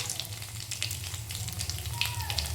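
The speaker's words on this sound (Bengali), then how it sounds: "ফোড়নটা একটু ভেজে নেব।" Cumin seeds, a dried red chilli and bay leaves crackle in hot oil after prawns are fried, a busy close sizzle with sharp spattering pops over a low steady hum.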